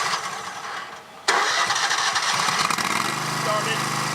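A small engine on sports complex equipment fires up with the throttle open, catching abruptly and settling into a steady, close running drone, with a voice faintly present.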